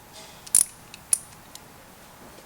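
Bolts being loosened from a clutch cover on an old Yamaha XS motorcycle in a garage, a few sharp metallic clicks and ratchet-like ticks, sparse and faint against a quiet background.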